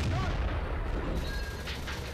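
Tiger II tank gun firing in the Steel Fury video game, amid vegetation and trench positions, as a loud, rumbling artillery-style report with a rolling low tail over a couple of seconds.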